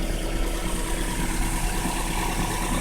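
The engine of a 2004 Nissan Frontier pickup truck idles close by, a steady, even hum with a low throb and light mechanical vibration that stays constant without revving.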